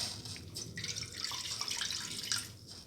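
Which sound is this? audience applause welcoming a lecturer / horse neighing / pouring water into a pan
pouring water into a pan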